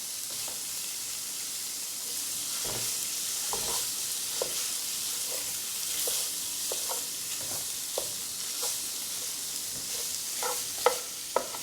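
Ground beef sizzling steadily in a hot pan, a constant close frying hiss dotted with scattered taps and scrapes as the meat is broken up with a utensil.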